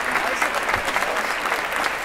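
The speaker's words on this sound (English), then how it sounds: "Too much applause. Enough of the applause." A studio audience at a comedy talk show gives sustained, dense applause, steady and fairly loud throughout.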